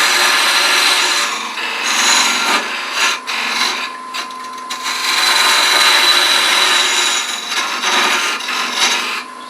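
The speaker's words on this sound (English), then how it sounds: "let's take our parting tool and go ahead and make a pretty good parting cut down to 3/4 of an inch to use as a reference" A parting tool cuts into spinning wood on a lathe, giving a loud, continuous scraping hiss that surges and eases as pressure changes, with brief dips where the tool lifts off.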